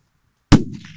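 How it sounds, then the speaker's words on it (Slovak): A strong New Year's Eve firecracker goes off in one sharp, loud bang after half a second of silence, followed by a short echoing decay. "Tak, toto sú také dobré petardy, celkom drahé sú"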